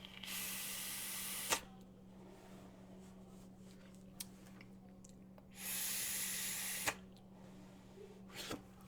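Air is pulled through an Axial RDA vape atomizer in two soft, breathy hissing draws, each about a second or more long, close and quiet with faint clicks between them.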